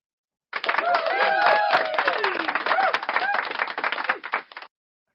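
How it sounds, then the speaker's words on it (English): A burst of applause and cheering with some whoops over the clapping, lasting about four seconds before cutting off abruptly. "Zach, you can applaud that too if you want."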